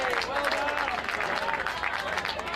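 Crowd applause rises at an AFL match between Manly Warringah and St George in Sydney after a tackle, a dense, sustained clapping and cheering from the stands under a commentator's voice.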